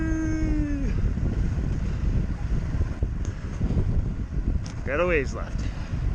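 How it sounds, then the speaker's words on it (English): A strong headwind roars into the microphone throughout a bike ride on a trail, a loud, steady rumbling buffet, while someone speaks briefly and a tonal squeal and a warbling call rise over it. "This headwind right now is killer."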